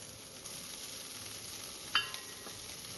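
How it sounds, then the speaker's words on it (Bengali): Spice paste for a Bengali lata fish curry sizzles steadily in a pan while being stirred, a soft continuous frying hiss with a faint clink partway through and no talking. "সেই পেস্টটি আবার পুনরায় সেই পাত্রে দিয়ে নাড়াচাড়া করবেন"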